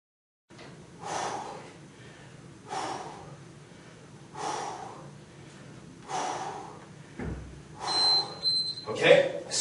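Forceful breaths pushed out during a dumbbell workout, five or six sharp exhales at a steady rhythm roughly every one and a half seconds, close and fairly quiet, ending in louder rustling.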